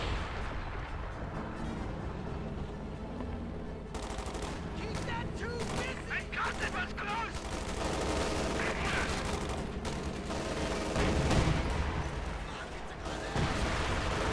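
Sturmpanzer fire hitting Greyhound armored cars in the Company of Heroes 2 game, heard as a dense barrage of booming shots and rattling gunfire with explosions, while a commentator talks over the battle.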